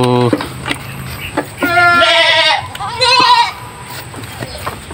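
A large goat on a farm lets out loud, harmonic bleats: a short cry at the start, then two long wavering calls in the middle, with bits of nearby voices in the gaps.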